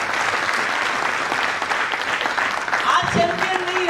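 An audience at a network marketing event in Kolkata applauds champion leaders, sustained dense clapping from a large crowd filling the room, with voices mixed in.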